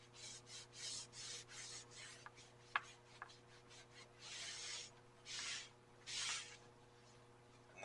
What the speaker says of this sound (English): So let's lightly rub those edges.